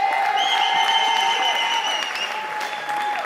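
A church congregation applauds and cheers during a sermon, a dense burst of clapping with tonal voices or instruments ringing above it, loud and sustained, easing slightly toward the end.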